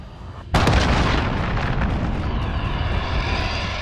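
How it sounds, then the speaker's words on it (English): Cruise missile strike in Call of Duty: Modern Warfare detonates in one sudden, loud, close blast, then rolls into a long, roaring rumble that slowly thins out. "Allied cruise missile launched."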